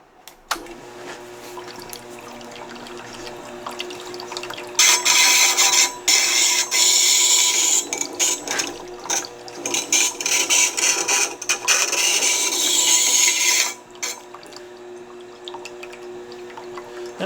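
A Tormek sharpening system's diamond wheel grinds a bowl gouge with water in a cold workshop, a loud steady hissing grind lasting about nine seconds, with quieter clicks and handling before and after.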